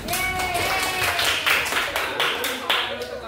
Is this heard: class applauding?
yes